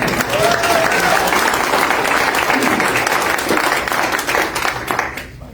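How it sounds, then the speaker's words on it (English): Residents at a homeowners association annual meeting applaud a neighbor, a loud, full crowd applause sustained evenly for several seconds before fading out. "Let's give him a round of applause."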